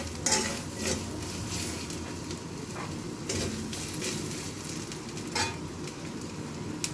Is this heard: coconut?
yes